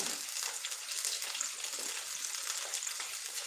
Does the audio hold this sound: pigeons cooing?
no